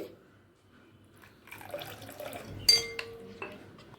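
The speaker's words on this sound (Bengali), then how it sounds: "আমি সামান্য জল দিচ্ছি" Water poured from a small vessel into semolina idli batter, a brief quiet splash and trickle with a light clink of a dish against the bowl in a home kitchen.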